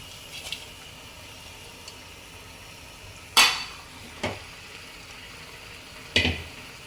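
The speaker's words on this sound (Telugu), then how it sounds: "ఈ పౌడర్స్ అన్నీ కుక్ అయిన తర్వాత మనము చికెన్ వేసుకోవాలండి." Washed chicken pieces dropped into a pan of cooked spice powders and stirred, with a few sharp clanks of a utensil against the pot spaced a second or two apart over quiet kitchen background.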